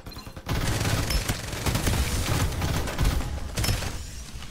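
Sustained video game gunfire, a dense rattling fusillade of rapid shots that starts abruptly after a brief quiet moment and carries on loud and close throughout.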